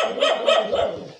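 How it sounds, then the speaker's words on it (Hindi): A village dog barks at workers near a house, giving three quick, loud, close barks in a row. "तो उन्हीं को देखकर भौंक रहा है"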